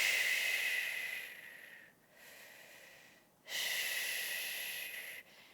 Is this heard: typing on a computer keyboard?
no